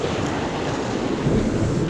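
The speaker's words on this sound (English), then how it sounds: "Little splash from a wave there." Sea waves wash and splash against shoreline rocks on a winter fishing trip, a steady broadband rush of surf with faint wind buffeting, close and continuous for the whole stretch without any talk.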